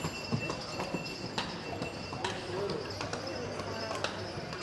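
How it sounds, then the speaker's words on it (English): Horses clip-clopping through narrow streets of an old island city, a series of sharp hoof knocks spaced irregularly over a low murmur of ambient noise, moderately close. "Horses running around."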